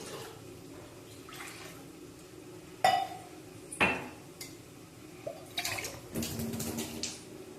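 Water poured from cups into a metal cooking pot for ragi mudde, with splashing broken by sharp clanks and clinks of utensils against the pot, close up and fairly quiet.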